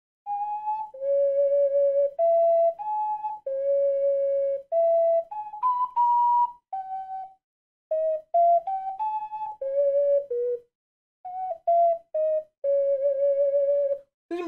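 Ocarina melody from The Legend of Zelda: Ocarina of Time, played as a sequence of clear sustained whistle-like notes with short gaps, stepping up and down in pitch, loud and close with no talking.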